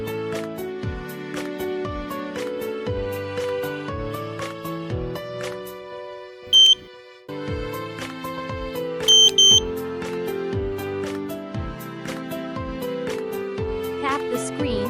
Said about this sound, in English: It beeps once when unlocked and beeps twice when locked.